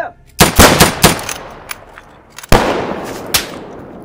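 Gunfire in a WW2 ambush scene, a burst of several close, loud shots followed by a second volley and a final single crack, echoing outdoors with shouted commands around it.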